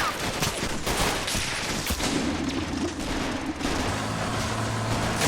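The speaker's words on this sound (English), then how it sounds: "Machine gun on that Hetzer is quite powerful." Sustained, dense gunfire from the machine gun on a Hetzer tank destroyer in the WWII strategy game Men of War: Assault Squad 2, during a Battle of the Bulge defense of Foy; continuous loud crackling volleys with a low rumble beneath.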